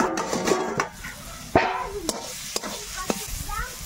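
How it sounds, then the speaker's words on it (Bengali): Cauliflower florets stir-fried in a covered pan for cauliflower paratha, giving a low sizzle with several sharp scraping and stirring clicks of a spatula against the pan, close and alone. "ঢেকে ঢেকেই ফুলকপিটা কষিয়ে নেব"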